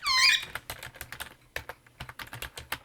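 Keys on a computer keyboard clack in an irregular run of quick taps, close and fairly quiet, after a brief high tone at the start.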